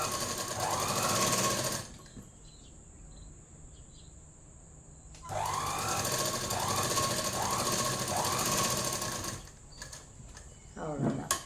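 An electric sewing machine stitches a seam on a chudidhar top in two sustained, rapid-running bursts, separated by a few seconds of near silence, then a brief clatter as the fabric is handled.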